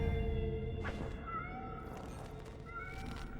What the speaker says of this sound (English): These are just like normal cats. Like Earth cats.